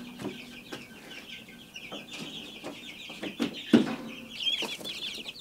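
Chickens and turkeys sharing a homestead pen cluck and murmur steadily, with a few sharper calls and faint clatter, nearby at moderate volume and with no voices.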